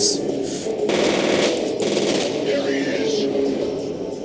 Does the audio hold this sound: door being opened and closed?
no